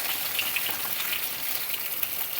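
Fish pieces frying in hot oil in a pan for Bihari fish curry, giving a steady, close crackling sizzle with dense spitting pops throughout and no voices.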